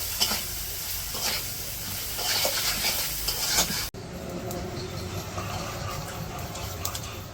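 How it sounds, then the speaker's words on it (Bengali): Fish fried together with hand-ground spices in a Bangladeshi village kitchen, a close steady sizzle with rhythmic stirring and scraping, briefly cut off midway before the frying resumes. "এখন মশলাগুলো কষিয়ে মাছগুলো কষিয়ে পরে সবজি দিয়ে দিব"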